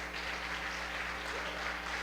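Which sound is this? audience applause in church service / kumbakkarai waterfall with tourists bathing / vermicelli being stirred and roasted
audience applause in church service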